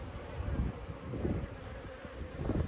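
Honey bees buzz steadily at a hive in a low, dense drone, with some wind rustle in the background.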